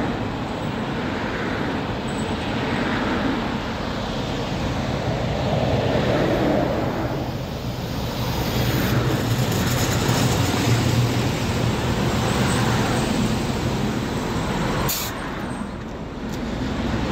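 A train pulling into a station, a steady broadband rumble of wheels and engine holding loud and close throughout, with a brief sharp hiss or screech near the end.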